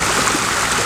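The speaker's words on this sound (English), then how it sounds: "Here's another waterfall that goes down towards, flows to the other two waterfalls at the pond I showed you." A small garden waterfall in an arboretum's woodland garden spills steadily into a pond, giving a continuous close rush of flowing water with no pauses and no voices.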